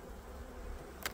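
Honeybees in a hive at the end of the season, some sitting on the hive floor, give a faint, steady low buzz throughout, with a brief sharp click near the end.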